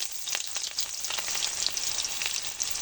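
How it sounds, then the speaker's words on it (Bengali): Whole garam masala, bay leaves and chopped onion fry in hot mustard oil, giving a steady, dense sizzle with crackling pops close by, continuous and even throughout. "এবার আমি দিয়ে দেবো গোটা গরম মশলা তেজপাতা পেঁয়াজ কুচি"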